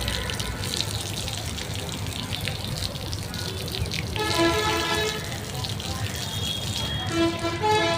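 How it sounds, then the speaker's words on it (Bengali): Water runs steadily as a duck feeding area is washed out, a continuous splashing rush with a faint tonal hoot joining partway through, while a voice talks over it. "এখানে আমরা যেখানে খাবার দিই সেটা ভালো করে ধুয়ে ফেলবো একদম সম্পূর্ণভাবে ধুয়ে ফেলবো"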